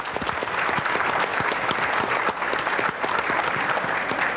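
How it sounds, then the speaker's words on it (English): Steady, dense applause from an audience at an AFL-CIO labour panel on precarious workers, continuous clapping filling the room throughout at an even level. "I'll just give him another round of applause."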